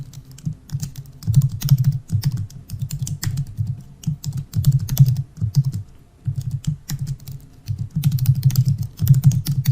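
Username and password being typed on a computer keyboard, a steady patter of close key clicks in quick bursts with brief pauses, no voices.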